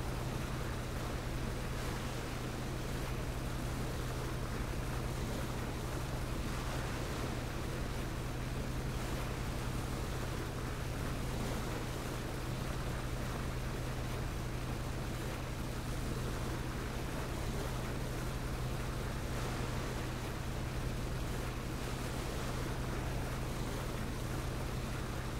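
A boat motor drones on water in the video game PlayerUnknown's Battlegrounds, a steady low engine hum mixed with rushing wind and spray that holds constant at moderate level for the whole stretch, with no talking.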